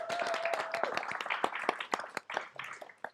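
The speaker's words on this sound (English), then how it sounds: "If you all could join me and for a round of applause and thanking Nick, Jody, and also Sonia." An audience claps to thank the panel speakers at the close of a Q&A session on circular built environments, with a scattered round of applause heard fairly quietly and some sharp individual claps standing out.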